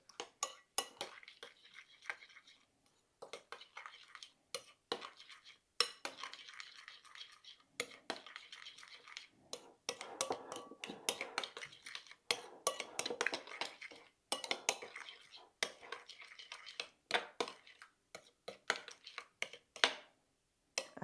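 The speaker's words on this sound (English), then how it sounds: "So you just mix it together. Mix well." Homemade tartar sauce stirred in a bowl, a utensil scraping and clinking against the sides in quick irregular bursts with short pauses, close and alone without talk.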